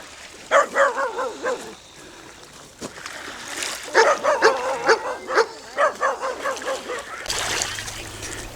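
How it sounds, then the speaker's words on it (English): Several dogs bark and yip in quick bursts beside a river flowing into a lake, fairly close, with rushing water and a splash underneath and a short pause between volleys. "Those dogs."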